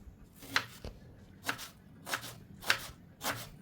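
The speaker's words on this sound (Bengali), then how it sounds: "এবার পেঁয়াজটাকে কুচি করে নিচ্ছি।" Onion being finely chopped with a knife on a board: five or six crisp, separate cuts in an irregular rhythm, close and fairly quiet, with no talking.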